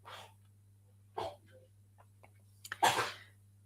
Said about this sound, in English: I hope you didn't hear the dog cough